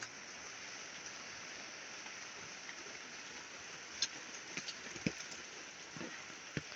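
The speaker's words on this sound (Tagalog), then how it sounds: "Lakas po ang ulan." Steady, dense hiss of heavy rain in the middle of a forest, with a few louder drops or knocks toward the end, no voices.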